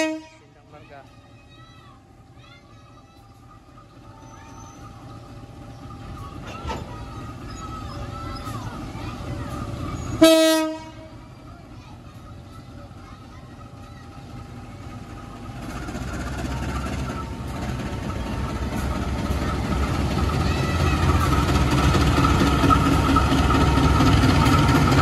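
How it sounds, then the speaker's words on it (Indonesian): A CC 201 diesel locomotive rumbles and idles while shunting train cars, gives one short horn toot partway through, then its engine grows louder and heavier as it works. "Lokomotif CC 201 8913 sedang melansir rangkaian kereta api."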